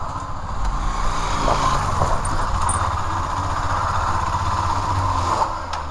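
A motorcycle engine runs on a trip to Valparai, a steady low rumble that holds at a constant level throughout, with faint background clatter and no voices.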